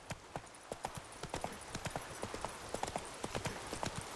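Horse hooves clip-clopping steadily at a trot in the video game The Witcher 3, an even rhythm of crisp hoof strikes on hard ground, moderately close and alone without talk.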